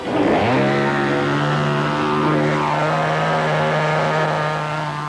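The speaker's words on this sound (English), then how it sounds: "Bob juggles a chainsaw" A running chainsaw being juggled by a performer, its motor droning steadily and loudly at a high pitch for several seconds, the tone wavering slightly as it moves, with no talking.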